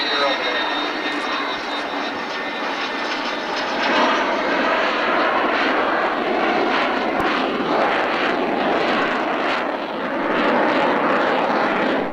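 A U-2 aircraft powers up and takes off at Mildenhall, a broad, steady jet roar filling the whole clip with a slight swell midway and near the end, heard from a moderate distance.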